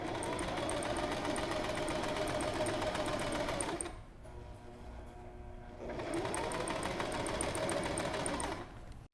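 Sewing machine stitching a seam on a garment from a clothing pattern, running in a steady fast whir for about four seconds, pausing briefly, then running again at the same close, even pace.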